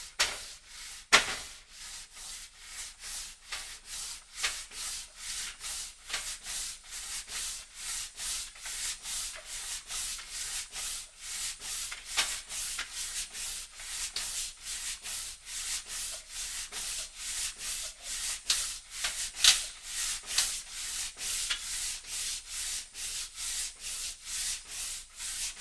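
Sandpaper rubbing back and forth along a wooden guitar fretboard to shape its radius, a steady run of close, raspy strokes in an even rhythm with no talking.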